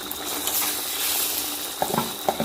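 Green pea paste sautés in oil with a steady close sizzle, and a few spoon scrapes and clinks come through in the last second.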